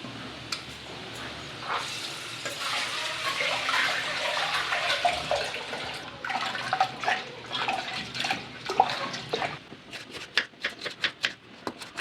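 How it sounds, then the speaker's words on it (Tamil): Lentils (dal) are washed in water by hand, with sloshing and swirling, then scattered splashes and drips as grains are rubbed and drained, soft and close with no talk. "பருப்பு வந்துட்டு ஒரு 2 or 3 டைம்ஸ் வந்து நல்லா வாஷ் பண்ணிக்கலாம்."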